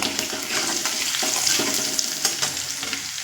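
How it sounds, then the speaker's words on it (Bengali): Onions frying in hot oil over a medium flame with turmeric, stirred in the pan, giving a steady dense sizzle with scraping stir strokes throughout and no talking. "তেলে আমি পেঁয়াজ দিয়েছি আর পেঁয়াজটা দু থেকে তিন মিনিট মিডিয়াম ফ্লেমে ভেজে নিয়েছি দিয়ে দেব পরিমাণ মতো হলুদ"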